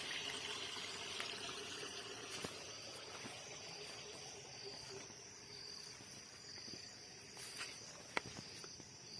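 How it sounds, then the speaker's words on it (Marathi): A small, fast-flowing stream gurgles faintly outdoors beneath the constant trill of crickets, with a few soft knocks and no speech. "एकदम खळखळ वाहतं पाणी"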